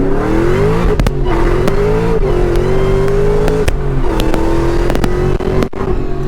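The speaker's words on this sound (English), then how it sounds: "That whine was nuts." Whipple-supercharged 2003 SVT Cobra making over 800 horsepower, accelerating hard up close: a loud engine drone with a rising and falling pitch and a supercharger whine, broken by sharp clicks and crackles.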